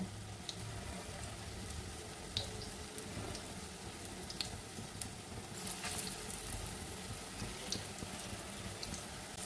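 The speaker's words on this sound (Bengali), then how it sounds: "এটা সর্ষের তেলেই ভাজবো এক্ষুনি হয়ে যাবে" Jackfruit kofta frying in mustard oil sizzles quietly in a pan, a steady soft crackle with occasional sharp pops and spits, no voices.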